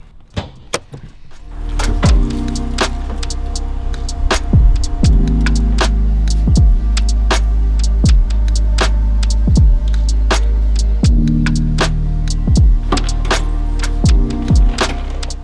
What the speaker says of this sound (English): If I try to switch the wipers on, I hit this and I can hear the motor.